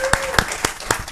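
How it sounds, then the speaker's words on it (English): Four or five distinct, evenly spaced claps from a small audience at a startup pitch event, sharp and close over a light background murmur. "Warm applause for Scooty"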